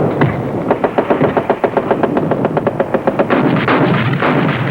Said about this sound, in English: We must attack the confidence of the enemy forces by laying down a superior volume of fire.